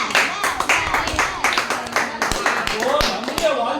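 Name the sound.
congregation clapping hands loudly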